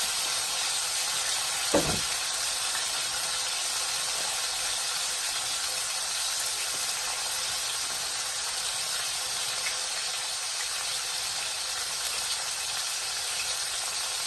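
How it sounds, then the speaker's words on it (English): Steaks searing in a hot pan give a steady, loud sizzling hiss throughout, with one brief clatter near the start and no talking. "you're going to sear them 30 seconds on each side. You're going to get a lot of sizzling"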